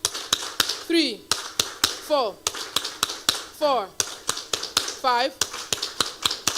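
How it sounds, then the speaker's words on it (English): An audience claps in unison at a conference, sharp, evenly spaced hand claps filling the hall as a speaker's voice calls out counts over them. "Are we not happy hearing your hands clap?"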